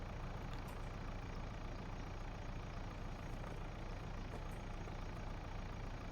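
A tractor engine in Farming Simulator 25 runs with a steady, loud droning rumble that holds evenly from start to finish, with no talk over it.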